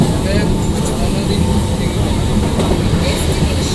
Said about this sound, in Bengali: আপনাদের সঙ্গে কথা বলতে বলতেই ট্রেন ঢুকে পড়েছে।